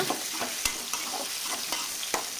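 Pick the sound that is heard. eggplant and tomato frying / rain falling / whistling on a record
eggplant and tomato frying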